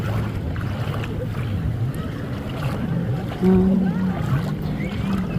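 Ocean waves wash onto a sandy Australian beach in summer, a soft, continuous surf wash with wind, and a brief louder hum partway through.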